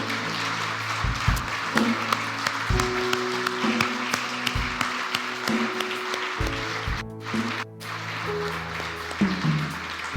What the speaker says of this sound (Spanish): ¿Cuánto levantamos un fuerte aplauso al Dios del cielo?